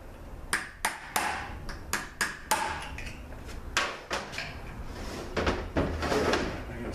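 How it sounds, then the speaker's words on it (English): A punch is hammered against a roll pin in a 5L40E transmission during teardown, giving a quick series of sharp metallic taps, close and fairly loud, some in rapid bursts. "I'm gonna knock this roll pin out."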